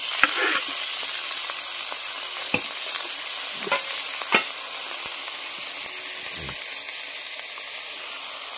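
Chopped tomato sizzles in a pan of spiced onion masala as it is fried and stirred, a steady frying hiss broken by several sharp scrapes and knocks of a spoon against the pan.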